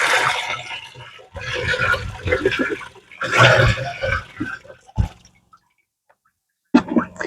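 Water is poured carefully through a filter into a container at an allotment plot, giving bursts of splashing and trickling with pauses between pours, close by and fairly loud, and a person talks over part of it.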